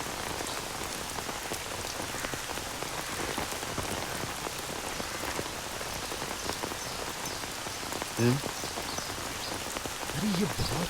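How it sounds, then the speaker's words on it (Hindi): Heavy rain falling steadily and loud, a dense constant hiss of drops on surfaces throughout, with a brief faint voice-like sound near the end. "अरे ये बहुत तेज बारिश हो रही है।"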